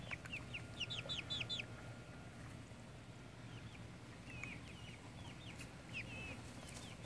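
Chickens cluck and chirp in short quiet bursts as they run and flap around outdoors, faint over a low background rumble.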